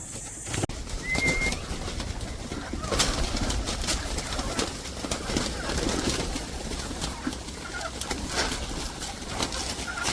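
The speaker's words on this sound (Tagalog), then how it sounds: "Dami na natin kalapati dito guys." Pigeons coo repeatedly at a nest box overlooking a lake, soft rolling calls close by over a steady outdoor hiss, with occasional wing flutters and brief sounds of movement.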